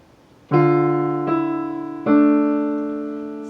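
Piano playing an exercise, the right hand adding two eighth notes over each left-hand quarter, giving three clear struck attacks that ring and decay steadily, close and solo with no talk.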